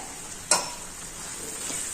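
A spoon scrapes once through a thick kalakand mixture with ghee and cardamom in a pan over a soft, constant sizzle, with a fainter scrape shortly after; close and quiet.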